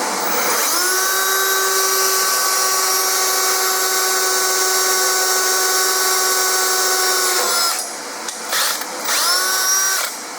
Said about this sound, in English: And now when we drill the next size, it'll center itself a lot easier.